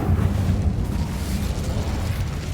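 The Incendio fire spell is cast in the video game Hogwarts Legacy, producing a loud, sustained, low roaring rumble with crackling bursts that runs unbroken throughout.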